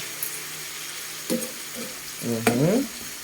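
Adobo meat frying in a pan is stirred: a low sizzle with a few clattering scrapes and stirring bursts, close and moderately loud, no talking.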